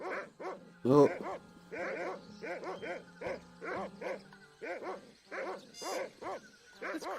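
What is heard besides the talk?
dog barking in the video game Monkey Island 2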